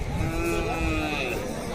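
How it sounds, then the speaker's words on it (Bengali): A cow at a busy cattle market in Rajshahi lets out a long, loud, close moo that swells and fades, set against a dense hum of crowd chatter. "ওই পাশে দেখতে পাচ্ছেন একটা বড় গরু বাধা আছে"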